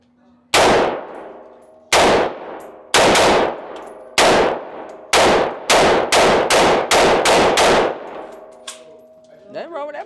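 AR rifle shots at an outdoor range, ten loud, close cracks with ringing decay, first spaced out, then a faster string near the end, some faint talk between them.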